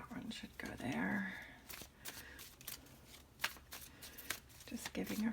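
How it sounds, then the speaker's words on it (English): Tarot cards shuffled for a Capricorn yearly reading, soft papery riffles and taps close by, quiet and intermittent, with a voice murmuring over parts of it. "Just giving a few shuffles."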